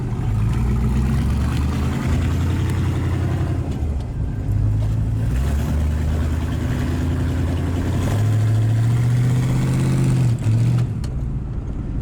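A 1952 Chevrolet Bel Air with a 283 V8 drives along, its loud, low engine rumble steady with rising and falling revs as it accelerates, heard close up without talk.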